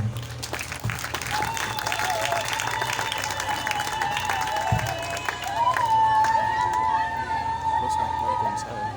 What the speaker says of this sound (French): si nous pouvons un peu acclamer pour la gloire du Seigneur